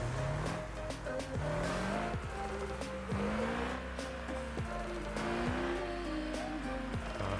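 Turbocharged V8 engine of a heavy recovery truck in BeamNG running steadily, a droning engine note with rising and falling revs under a constant hum, close and fairly loud throughout.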